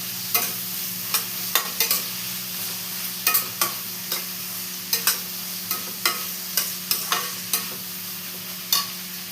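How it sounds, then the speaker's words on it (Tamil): Onions for mutton biryani sauté in a pan with a soft background sizzle, broken by frequent sharp scrapes of a spoon stirring them in uneven bursts, close and clear, with no one talking. "வெங்காயம் வந்து நல்லா பொன்னிறமாக வதங்கணும். ஸோ நான் வதக்கணும்னு காமிக்கிறேன்"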